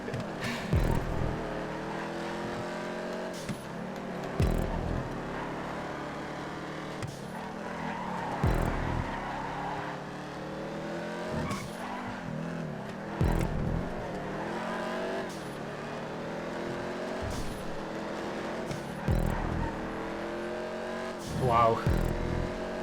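Dominator race car in GTA 5 with its engine revving and shifting through gears in repeated rising sweeps while racing. Talk runs over the engine sound throughout.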